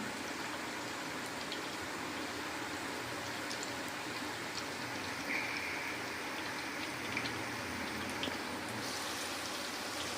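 Raisins frying in oil for an amla pickle, a continuous dense bubbling sizzle close by, steady for the whole stretch with a few faint clicks, no talking.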